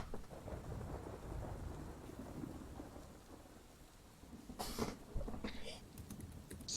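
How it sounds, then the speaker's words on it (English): Distant thunder rolling low and soft beneath steady rainfall, a continuous quiet rumble with a few sharper crackling bursts toward the end. "you hear rumbling thunder in the distance"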